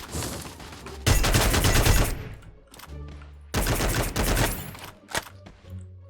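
Gunfire bursts from the mobile shooter game Free Fire, two loud dense volleys of rapid shots around a second and three and a half seconds in, separated by quieter game noise and a few single pops.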